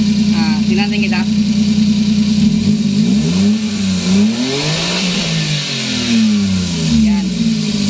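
A Suzuki K6A engine in a DA63T, running cleanly after a misfire repair, revs up and down repeatedly, loud and close, with a brief voice near the start.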